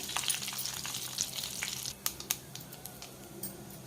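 Steady crackling sizzle of dry red chillies frying in hot oil, with a few sharper pops and spits standing out near the end.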